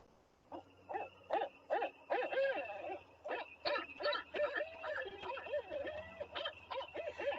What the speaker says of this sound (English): barred owls have wonderful calls